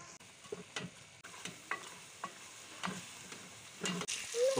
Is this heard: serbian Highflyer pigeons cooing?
no